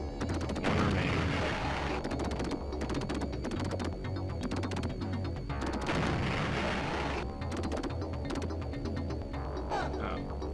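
Gunfire in Alien 3 on the Sega Genesis: rapid repeated synthesized shots in dense bursts, loud and steady, layered over low rhythmic game music across the whole stretch.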